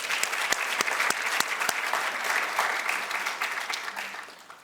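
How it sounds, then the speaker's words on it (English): An audience at a college event breaks into applause, a dense burst of many hands clapping that holds steady, then slowly thins and fades toward the end. "Let's give him a round of applause"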